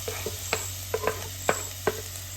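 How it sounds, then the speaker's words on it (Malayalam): Chopped ginger fries in hot coconut oil in a pan for puliyinji, a faint sizzle under several distinct scraping taps of a spoon as it is stirred. "വെളിച്ചെണ്ണ ചൂടായിട്ട് നമുക്ക് ഇഞ്ചി കട്ട് ചെയ്തത് ഇടാം"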